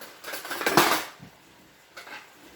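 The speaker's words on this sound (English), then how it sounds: "I'm going to get a spoon and dig that out" A spoon scraping seeds out of sliced, halved garden peppers, two short close scraping bursts separated by a pause, with no talk.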